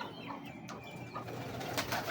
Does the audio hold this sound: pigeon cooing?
yes